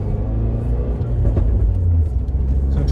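A tuned Fiat 124 Spider with a Eurocompulsion tune drives on a road in sport mode, giving a loud, deep, continuous engine rumble heard from inside the car, with no voices.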